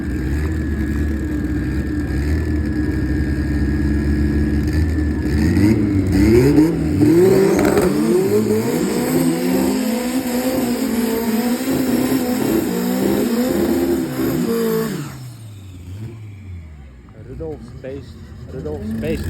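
Two drag racing bakkies, an A14-engined pickup against a 4AGE-powered Nissan Champ, accelerating hard through gear changes with rising engine howls, loud and close, fading away near the end.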